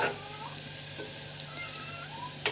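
Onions sauté in a pan, giving a steady, moderate sizzle with occasional soft stirring sounds. A sharp clink comes near the end, and no one speaks.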